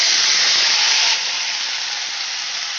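Vegetable stalks and potatoes hit hot oil in a pan and set off a loud, bright, hissing sizzle. It steadies and eases slightly after the first second, with no voices present.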